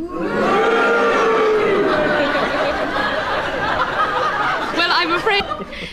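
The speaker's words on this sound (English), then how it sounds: "If you think that Clement Freud is right and Nicholas Parsons was repeating himself, will you cheer?" Studio audience of a radio panel game responding to a vote, a loud swelling crowd roar of cheers and boos that fades into scattered chatter and laughter.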